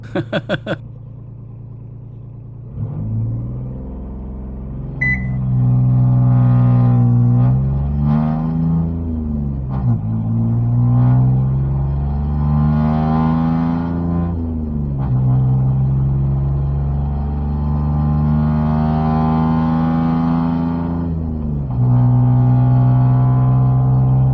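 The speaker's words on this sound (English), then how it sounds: "this will be a 0 to 50 on a normally aspirated 719cc diesel engine" A Honda Insight fitted with a normally aspirated 719cc Kubota diesel engine accelerates from 0 to 50, its loud droning engine note climbing through several gear changes, each with a brief dip before rising again.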